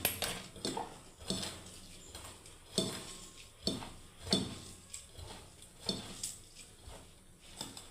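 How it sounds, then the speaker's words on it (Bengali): A vegetable kabab mixture with chaat masala and garam masala being mixed by hand in a bowl, with repeated soft squishing pushes and light clinks of the vessel in an uneven rhythm. "এবার আমি বন্ধুরা হাত দিয়ে মেখে নেবো"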